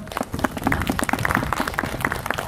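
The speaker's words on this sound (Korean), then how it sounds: "박수로 맞아주십시오" An audience at a memorial hall opening ceremony applauds to welcome the mayor, with brisk, steady clapping from a moderate crowd filling the whole moment.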